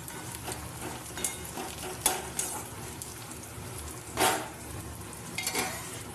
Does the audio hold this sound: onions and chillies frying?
yes